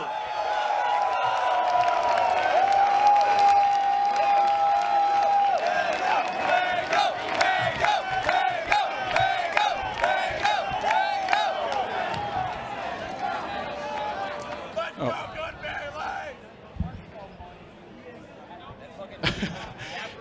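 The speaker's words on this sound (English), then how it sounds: "You heard someone in the crowd scream" A large crowd at a Super Smash Bros. Melee tournament top 8 roars and screams loudly, the din swelling then gradually fading, with scattered shouts and an amplified voice cutting in near the end.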